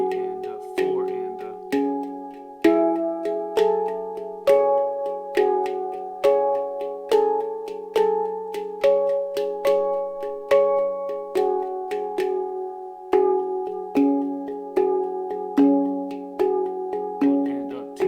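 A handpan rings with steady, resonant strikes, right hand on each beat and left hand in triplets, layering into a repeating triplet-feel pattern, clear and close.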